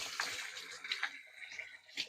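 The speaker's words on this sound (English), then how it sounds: "I'm going to need to wash my hands" Running tap water splashes over hands being washed at a kitchen sink while Scotch eggs are prepared, a brief, fairly faint rush broken into a few short bursts.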